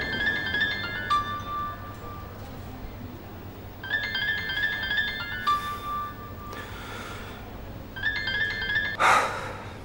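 A mobile phone rings indoors with a tinkling electronic ringtone, three evenly spaced bursts of a short melodic phrase at moderate, somewhat subdued volume, with a soft rustle near the end.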